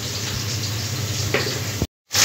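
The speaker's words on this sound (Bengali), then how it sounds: "এবারে তেলের উপরে দিয়ে লাল লাল করে ভেজে তুলে নেব।" Kolkata cabin-style fish fry pieces fry in hot oil, a steady moderate bubbling sizzle with a soft clink near the end before a brief cut to silence.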